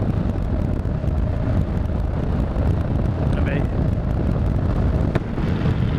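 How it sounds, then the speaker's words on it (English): Strong wind buffets a microphone during a Sunday ride on a late-spring day, a constant loud rumbling roar with no pause. "Well, it's windy."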